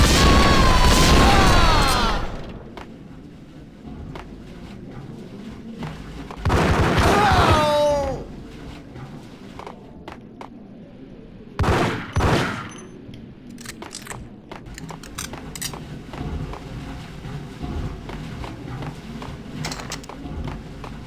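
Gunfire in the Max Payne video game, heard as several loud bursts separated by quieter stretches of background game sound, with sharp pops scattered through the later part.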